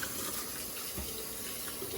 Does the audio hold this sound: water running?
yes